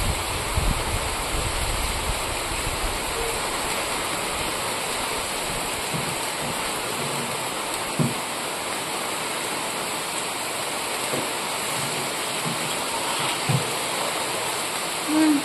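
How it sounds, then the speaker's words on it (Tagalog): Heavy rain pours steadily with a constant rushing hiss while strong wind roars behind it, broken by occasional soft thumps. "nag-umpisa na siyang umulan. Lakas yung hangin, tapos yung ulan magwala-wala."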